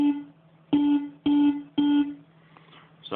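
Three punchy synth bleep stabs in quick succession, each a short buzzy chord that ends abruptly, followed by quiet.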